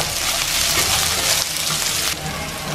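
Garlic, ginger, curry leaf and sliced onion frying in oil in a pan after mustard seeds pop, a steady close hiss and sizzle that dips slightly partway through, with no talking.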